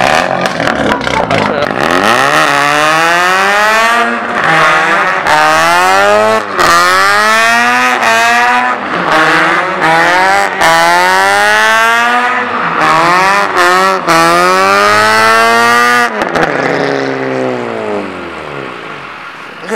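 A Mazda RX-8 rotary engine without an exhaust, its catalytic converters cut out, revs hard and extremely loud, repeatedly climbing and dropping in pitch in rapid succession.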